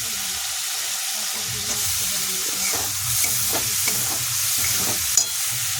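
Chopped tomatoes sizzling in hot oil in a pan while a spoon stirs and scrapes through them, a steady loud fry with rhythmic scraping strokes and occasional clinks.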